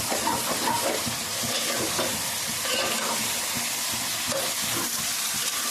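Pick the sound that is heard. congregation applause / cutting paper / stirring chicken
stirring chicken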